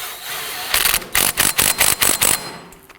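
A power tool snugs down the rear CV axle nut on a 2005-2009 Subaru Legacy, giving a run of about six close, loud, evenly spaced impact bursts after a brief lower whir.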